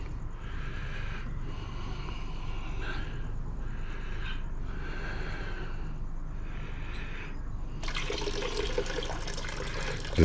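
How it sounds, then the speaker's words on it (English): Water carrying fine gold sediment pours steadily from a temporary container into a main stock pot, a continuous splashing trickle with a louder, brighter gush near the end. "I'm going to let it settle and pour the bulk of it into my main stock pot"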